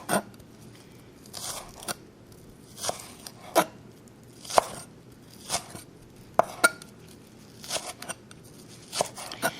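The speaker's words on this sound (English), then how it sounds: "for my scallions, I want to cut them on a very sharp diagonal, just like so." A sharp knife slices scallions on a steep diagonal against a cutting board, giving a steady series of crisp, close chopping strokes with brief pauses between them.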